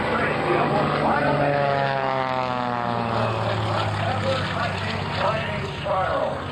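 Aerobatic propeller plane flown by Frank Ryder performing an inverted cyclone maneuver at an air show at NAS/JRB Willow Grove, a loud droning engine with shifting pitch, with a voice speaking over it.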